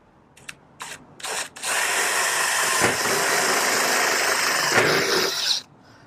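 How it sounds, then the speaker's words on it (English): An electric drill gives a few short bursts, then runs steadily at high speed for several seconds drilling a pilot hole for a screen door repair, before stopping. "We're going to drill a pilot hole"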